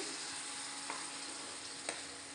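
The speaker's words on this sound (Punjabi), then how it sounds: "ਤੇਲ ਗਰਮ ਆ ਜੀਰਾ ਆਪਣਾ ਪਾਉਣ ਸਾਰ ਬਣ ਗਿਆ ਹੁਣ ਇਹਦੇ ਵਿੱਚ ਆਪਾਂ ਐਡ ਕਰਦੇ ਹਾਂ ਲਸਣ ਅਦਰਕ ਟਮਾਟਰ" Garlic, ginger and tomato paste sizzling in hot oil with cumin, a faint, even hiss throughout with two brief stirring ticks, no voices.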